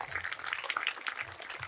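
Audience applause for a bishop at a church-organised International Women's Day gathering in Vasai, a short, steady patter of clapping at moderate distance with no voices over it.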